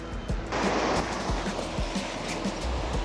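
Steady surf washes onto the beach at Pantai Tikus Emas in Bangka, a continuous broadband roar with small rhythmic wave slaps, close and fairly loud, with no talking.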